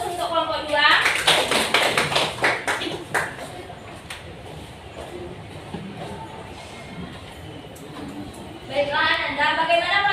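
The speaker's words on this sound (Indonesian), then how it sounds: "Beri aplaus untuk kelompok 2." Classroom applause for a student group after their presentation: a burst of scattered hand claps and taps rings out between stretches of nearby talking, with a voice speaking before and after.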